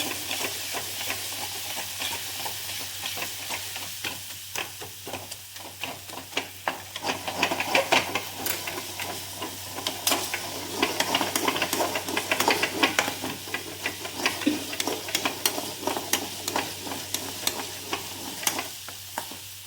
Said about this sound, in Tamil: நம்ம இங்கே கொஞ்சம் துவரம் பருப்பு, அவங்க வந்து பாசிப்பருப்பும் இது எண்ணெயில் போட்டு